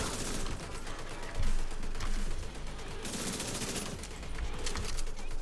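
Sustained automatic gunfire from The Division 2 with an SMG, dense rapid bursts rattling continuously and loudly, with a brief surge partway through and no pauses.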